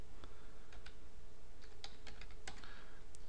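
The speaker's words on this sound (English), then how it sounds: "Let me go ahead and type in I Am David" Quiet, irregular clicking of keys being typed on a computer keyboard, close by with a few sharper taps in quick bursts.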